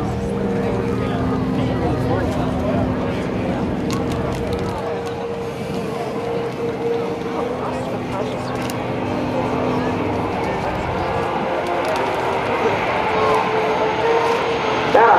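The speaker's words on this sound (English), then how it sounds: "Touching down on the main gear, nose gear comes down" A C-130J-30 Hercules touches down at an air show, its turboprop engines giving a loud, steady roar that fills the scene while an announcer speaks over it.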